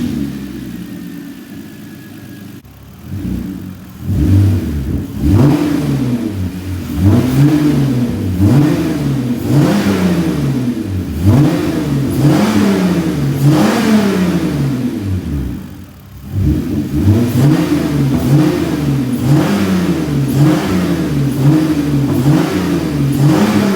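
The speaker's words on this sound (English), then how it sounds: "Hopefully we can hear those sweet cold air intake sounds." A Hyundai Genesis Coupe 3.8 V6 fitted with a cold air intake, heard from the front, is revved repeatedly in loud rising and falling sweeps, with a brief drop back to idle partway through.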